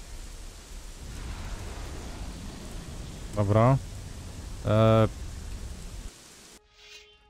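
Steady rain hiss in the video game Gothic 3, a broad wash of falling rain under the scene, interrupted by two short tonal bursts and someone speaking briefly before it drops away.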